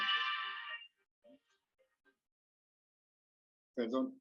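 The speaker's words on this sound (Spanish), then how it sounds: "es que el teléfono suena" A telephone rings in a quiet room during a live astronomy stream, a loud electronic tone that cuts off after under a second, then near silence with faint small sounds before a voice speaks.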